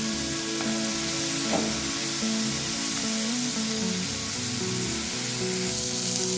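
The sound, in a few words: small fish being stir-fried in a pan, sizzling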